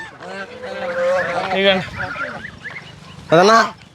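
Large swan-like ducks in a garden give loud, nasal honking calls, a run of overlapping cries followed by a pause and then one sharp, louder burst near the end.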